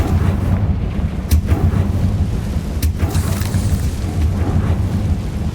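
The Confringo explosion spell goes off in Hogwarts Legacy as a loud, dense, rumbling blast with a couple of sharp cracks over a constant heavy low roar.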